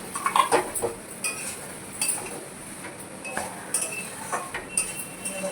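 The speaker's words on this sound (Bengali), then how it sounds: "একটু কষিয়ে নেব।" Curry sautéing in a pan with coriander leaves, heard as a spoon clinking and scraping against the metal pan in uneven strokes over a faint sizzle, close and moderately loud, with no talk.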